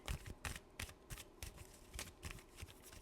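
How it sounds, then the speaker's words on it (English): Tarot cards are shuffled by hand in a close, quiet series of crisp riffling bursts, about eight quick flicks in a loose rhythm with soft pauses between them. "3 more shuffles."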